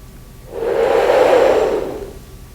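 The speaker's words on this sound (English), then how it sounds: "you just suck in air in this low sucking sound" A low, breathy sucking sound of air drawn in over an index finger swells and fades over about a second and a half, close and fairly loud, with no voices.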